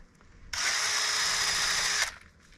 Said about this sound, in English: So how long does it usually take to sand each caliper?